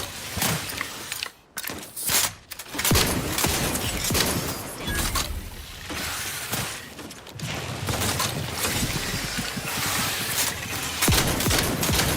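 Gunfire bursts in the video game The Outer Worlds 2, with rapid shots amid mechanical clanking and ratcheting, loud and fairly continuous across the scene with brief gaps early on.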